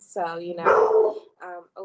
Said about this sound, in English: I'm so sorry about my dog.